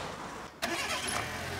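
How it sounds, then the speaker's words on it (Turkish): A car engine cranks and catches during a repair session where the antifreeze has been drained and the cooling system is being flushed with water; one short, sharp start, then a steady idle. "Arabayı çalıştır abi."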